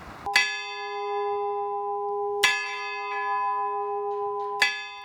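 Church bell in the dome of the Vaux-le-Vicomte château, rung by a hammer: three loud, clear strikes about two seconds apart, each leaving a long, ringing, slowly fading hum in a quiet space.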